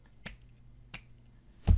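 Three crisp finger snaps spaced roughly evenly apart, close and dry, with the last one louder and fuller, in a quiet room with no talking.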